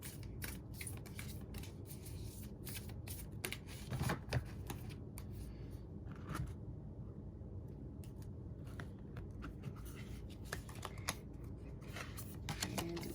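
Hero's Journey Dream Oracle cards being shuffled by hand, giving a quiet, steady run of soft, dense clicks and riffles that continues throughout with no talking.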